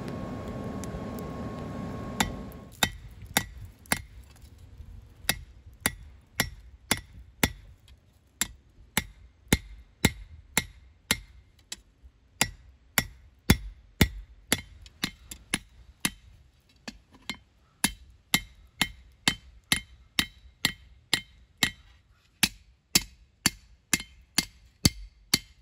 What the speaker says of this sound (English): let's head over there and beat on this a little bit